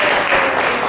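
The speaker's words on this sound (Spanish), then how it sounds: "Otro aplauso, por favor." An audience at a talk on cinema and video games gives a brief, steady burst of clapping, dense and even across about a second.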